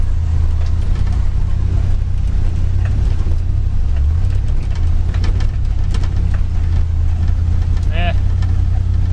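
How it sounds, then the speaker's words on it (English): A 1964 Dodge Custom 880 does a two-wheel burnout drift in melting snow, its engine a constant loud low rumble with a brief squealing note near the end. "One less obligatory burnout here. Or drift, I guess. Two-wheel drift."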